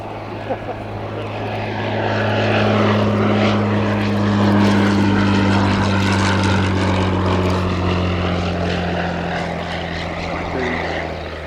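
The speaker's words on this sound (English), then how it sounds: "Spitfire into land first." A Supermarine Spitfire propeller fighter comes in to land at an air show, its engine a steady droning roar that swells and then slowly fades. No voices are heard.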